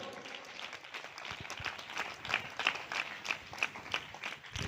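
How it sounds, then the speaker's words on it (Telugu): A church congregation claps hard together, a dense burst of applause that builds into a loose rhythmic beat, with faint voices underneath. "ఒకసారి గట్టిగా చప్పట్లు కొట్టండి"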